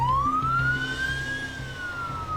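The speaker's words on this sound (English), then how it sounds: "y'all want the lights and sirens on?" An ambulance siren wails nearby in a long rising and falling sweep over a low engine rumble, loud and clear, with no talking.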